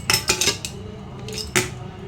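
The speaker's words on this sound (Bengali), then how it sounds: "এখন আমি ঢাকাটা খুলবো।" A hot cooking pot's lid is lifted during home-style handi chicken preparation, giving a few sharp metallic clinks and scrapes, with a louder clank near the end, close and alone.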